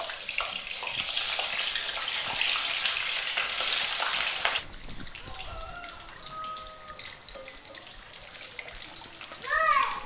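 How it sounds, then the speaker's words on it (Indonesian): Tofu frying in hot oil in a home kitchen gives a loud, dense sizzle for about four and a half seconds. The sound then drops to a quieter, softer crackle with faint clatter, and a brief louder burst comes near the end. "Goreng tahu."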